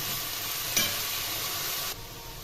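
Red spinach with salt and turmeric stirred and frying in a pan, a steady close sizzle with a brief scrape partway through, no voices.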